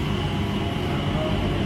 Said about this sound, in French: dans ce petit métro pour aller d'un terminal à l'autre